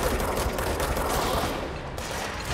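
Loud, sustained bursts of rapid gunfire from a firefight in the video game Control, continuous and close for the whole stretch.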